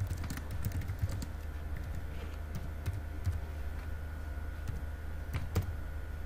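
Someone types a website name on a computer keyboard, a quick irregular patter of close, light key clicks with brief pauses, alone without talk.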